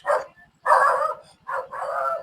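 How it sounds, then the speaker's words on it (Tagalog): A dog gives three short barks, close and fairly loud, with brief quiet gaps between them. "Natahol na yung aso."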